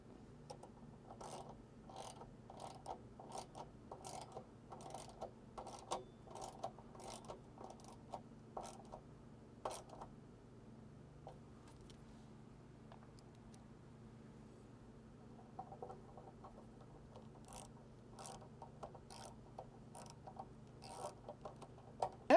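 Screws for an overhead MOLLE panel driven with a 5/16 socket, giving faint, steady ratcheting clicks in rapid irregular bursts over a low background hum, with a short quieter pause midway.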